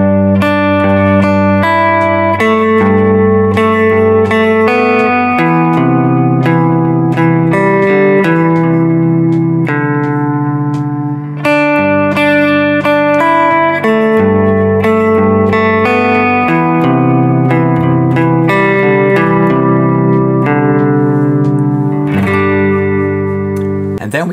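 Guitar part of a song played slowly, acoustic and electric tones with ringing notes, sustained chords and steady plucked rhythm filling the whole passage alone without any talk.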